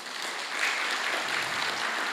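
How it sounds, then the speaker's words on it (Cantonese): A church congregation claps together to welcome visiting brothers and sisters from Cameron Highlands during a Sunday service, a dense, steady wash of applause from many hands held at an even level. "我哋好唔好拍手歡迎佢哋？"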